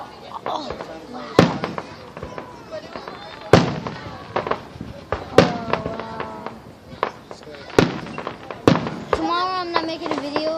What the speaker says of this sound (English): that is a lot of fireworks